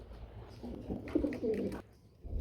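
Mughal-tail pigeons kept for sale give a few soft, close coos over quiet background hum, ending in a short pause.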